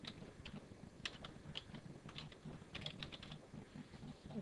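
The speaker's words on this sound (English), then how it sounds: "type in some text here" Fast, irregular clatter of keys on a computer keyboard as text is typed into Adobe Photoshop, steady and close with no voices.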